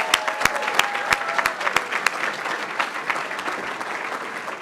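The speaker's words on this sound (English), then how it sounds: "Let's now give them a complete round of applause," An audience applauds a symphony group at a city's State of the City event, a steady wash of many hands clapping with a few louder nearby claps standing out at the start.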